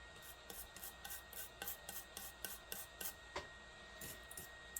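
A toothbrush scrubs leftover flux off a circuit board during a Noco GB40 jump pack charger repair, making quick rhythmic bristly rasps, about a dozen short strokes in a steady back-and-forth pattern, close and fairly quiet, with no talking.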